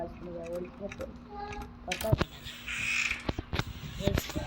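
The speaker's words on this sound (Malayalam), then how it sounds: "മുകളിലത്തെ റൂമിൽ ഒരു കാക്കയുണ്ട്" A crow caws in the horror video game Granny 3, with several harsh calls scattered through the clip, mixed with game noises and a voice talking.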